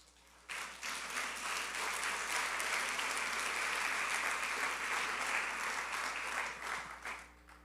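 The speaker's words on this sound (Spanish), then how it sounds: "eso merece un aplauso, esa frase." A church congregation bursts into sustained applause during a Sunday sermon, dense clapping rising suddenly and holding for several seconds before tapering off.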